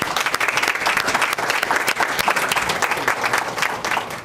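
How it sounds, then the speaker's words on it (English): An audience at an evening sendoff event for an Ireland trip gives a dense, sustained round of applause, many hands clapping close together at steady loudness throughout. "Please, let's give them a round of applause."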